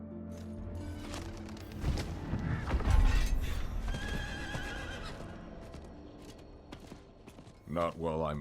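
A horse whinnies loudly and its hooves clip-clop in the video game Diablo IV, with a deep boom midway and a person's voice talking in the background.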